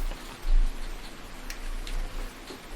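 Rain in the farming video game Farming Simulator 19 patters softly and steadily, with faint scattered drip-like ticks and low rumbling swells, and no speech.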